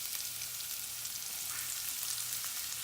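Spring onions fry in hot oil in a flat pan, giving a soft, steady sizzle that stays faint and even for a few seconds with no talking.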